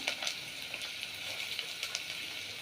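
Onions and green chillies frying in oil in a pan, a steady close sizzle with faint crackles and soft stirring scrapes, no talk.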